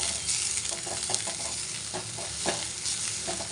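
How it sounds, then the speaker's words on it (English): Leafy vegetables sauté in a pan over a low flame, a soft continuous sizzle broken by irregular scraping stir strokes, close and fairly quiet with no talking. "Now add the leafy vegetables in this."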